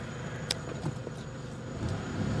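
A 2006 Toyota Hilux with a fully repaired engine that had seized, idling in a steady, quiet low rumble with a few faint clicks and ticks over it.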